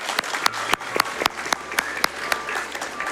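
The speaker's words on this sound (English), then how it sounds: "Can we give a round of applause?" A small crowd claps steadily for a few seconds, sharp overlapping hand claps in a warm burst of applause.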